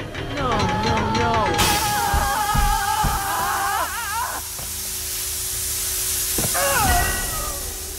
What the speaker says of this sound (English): It has a creative method of killing him involving overloading the steam pipes.